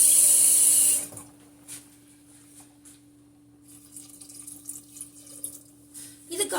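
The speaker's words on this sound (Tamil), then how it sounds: "இதுக்கு தேவையான தண்ணி" Water runs strongly into a cooking pot for about a second, then stops, leaving light drips and kitchen clatter, nearby.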